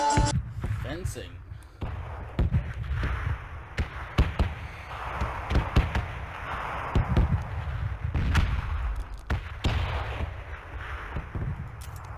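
Gunfire in the battle royale video game PUBG: a string of sharp, punchy shots at irregular intervals over a continuous low rumble of in-game ambience, with some shots sounding fairly distant.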